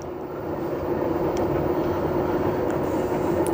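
A washing machine runs a tub-cleaning wash cycle with a dissolved True Fresh cleaner tablet, giving a steady, loud churning hum that continues without a break.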